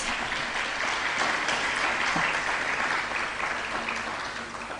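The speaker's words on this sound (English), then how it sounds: "Clap for that." An audience applauds at a school speech day and prize-giving ceremony, a dense, steady wash of many hands clapping that carries on throughout and fades slightly at the end.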